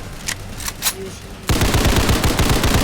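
Gunfire in the shooter game Hypershot: a few scattered shots first, then a sudden loud, rapid automatic burst of rattling fire that continues without a break to the end.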